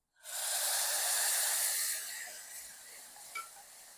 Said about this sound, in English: You're going to go ahead and start adding your stock, 1 or 2 ladles at a time.